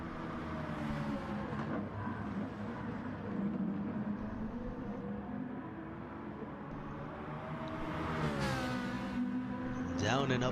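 Race cars roar around the Le Mans circuit in a racing video game, engines droning steadily with rising pitch sweeps near the end, under continuous commentary.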